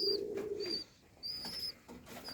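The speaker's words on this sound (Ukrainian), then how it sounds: "Це молодий дутиш." A young pouter pigeon coos softly nearby in short, faint bursts separated by brief quiet gaps.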